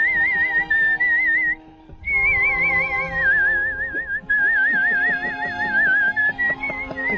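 An international grand champion whistler whistles a song, a clear, loud, pure melodic tone with vibrato in sustained phrases separated by short breaths.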